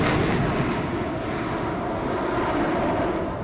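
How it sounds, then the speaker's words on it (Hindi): Indian Air Force jets in formation fly past at the Republic Day parade, a loud broad roar of jet engines that fills the moment and fades slightly as it passes, with no talk. "लेकिन उनकी ध्वनि, उनकी आवाज हम तक पहुंच रही है और हमारे माइक्रोफोन के माध्यम से आप तक भी जरूर पहुंच रही होगी"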